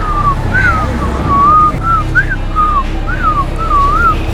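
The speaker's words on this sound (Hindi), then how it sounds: "उसको देख के सीटी नहीं बजाई, वैसी सीटी बजा रहा हूँ" A man whistles a wavering, sliding tune in short repeated phrases, close and clear over a low background rumble, with no talk.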